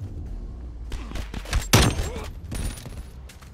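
A PPSh submachine gun fires in Call of Duty gameplay in quick bursts of rapid shots, with one loud, dense burst in the middle and fainter gunfire and game noise around it.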